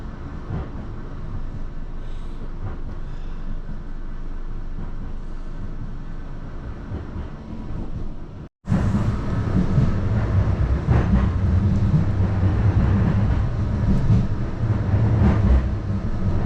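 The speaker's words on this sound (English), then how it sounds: "Almost immediately, the tram begins running alongside the promenade" A Blackpool tram runs along the seafront promenade, a steady loud rumble of wheels and motor heard from on board that briefly drops out and then returns heavier and louder.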